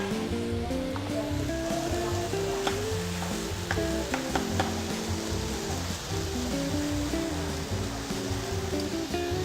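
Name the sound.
fresh prawns sizzling while tossed in a wok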